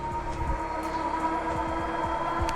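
A 12-volt electric honey extractor runs with a steady mechanical hum and a constant tone, overlaid by repeated rhythmic rattling clacks from the spinning drum.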